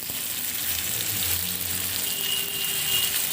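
Tomatoes and curry leaves hit hot oil over browned onions in a frying pan, giving a steady, close, loud sizzle with no talk.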